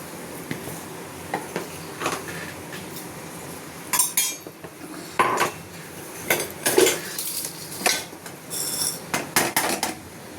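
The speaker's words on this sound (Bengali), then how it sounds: "নারকেলটা এখন নাড়াতে হবে অনেকক্ষণ ধরে" A spoon scrapes and knocks against a pan as grated coconut is stirred for a sweet, giving irregular metallic clinks and scraping bursts with quiet gaps between them, fairly close and with no talking.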